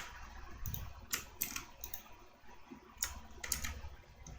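Light computer keyboard taps and mouse clicks come in a few quick, faint clusters during a Ctrl V paste, set against a quiet room hiss.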